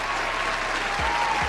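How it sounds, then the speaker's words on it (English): A round of applause, a short burst of dense, steady clapping from a crowd, continuous throughout with no talking over it. "Give him a round of applause"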